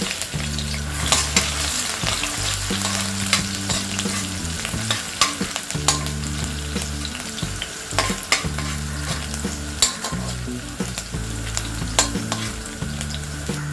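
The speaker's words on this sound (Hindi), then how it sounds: "तेल गरम हो गया है। अब हम इसमें डालेंगे 5 से 6 गार्लिक जिसे हमने स्लाइस कर लिया है। 3 ग्रीन चिलीज चॉप्ड।" Sliced garlic and chopped green chilies fry in two tablespoons of hot oil, a constant close sizzle broken by sharp spatula clicks and scrapes, with music playing throughout.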